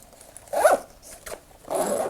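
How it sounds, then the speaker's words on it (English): Two quick zipper pulls on a dopp kit bag, each a short rasping zip close to the mic, separated by a brief pause. "Great zippers."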